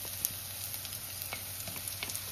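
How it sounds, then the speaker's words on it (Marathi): Green chili, curry leaves and ginger-garlic paste fry in a pan, giving a steady, moderately quiet sizzle with faint crackles and small stirring sounds throughout, no voices. "हे घालून 1-2 मिनिटं मी परतवून घेते असं।"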